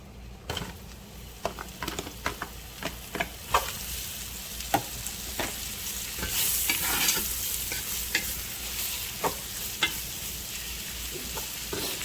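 Mushrooms sizzle in a hot oiled pot while being stirred, with a steady frying hiss and repeated scraping clicks of a utensil against the pot, close up and without talk.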